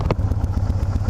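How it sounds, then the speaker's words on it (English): A fuel-injected cruiser motorcycle engine idling up close, a steady low rumbling pulse with faint mechanical clatter and no voices. "gets back down to regular idle on fuel injection, which is like 10 seconds on this bike"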